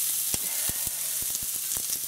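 Onions sizzle and crackle steadily in a pan on an induction hob, with a constant hiss and scattered sharp pops, close and with no speech.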